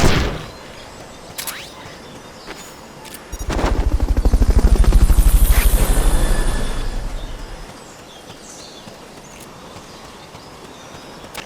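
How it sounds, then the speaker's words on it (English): A video game's Fulton recovery helicopter: rotor thumps swell up loud for a few seconds and then fade away, with a steady low background hum before and after. "Fulton recovery helicopter is complete"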